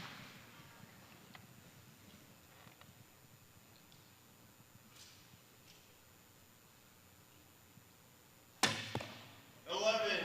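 Arrow striking the target during the finals of an archery competition, the 2025 Lancaster Classic: a sharp, close impact thud late in the clip, followed by a louder burst, after quiet background ambience.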